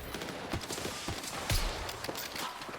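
Gunfire from the Battlefield 6 video game: a dense string of sharp, rapid shots with a few heavier blasts, fairly loud and close, over a constant noisy background.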